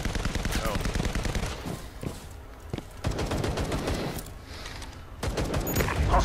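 Video game gunfire: rapid bursts of shots and sharp cracks hammering continuously through the whole stretch, loud and close, with faint voices underneath.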